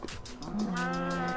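A single drawn-out cow moo from Minecraft, clear and close, rising into a steady tonal low over a faint background, heard alone without talk.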